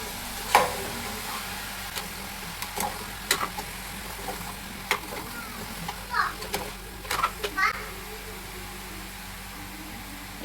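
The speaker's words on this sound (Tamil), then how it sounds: "உப்பு எல்லா சைடும் மிக்ஸ் ஆகுற மாதிரி நல்லா கலட்டி விட்டுக்கலாங்க" A salted brinjal stir-fry sizzles in a pan as a spoon stirs it, soft scraping strokes and clinks recurring irregularly over a faint steady fry, with a voice heard in the background.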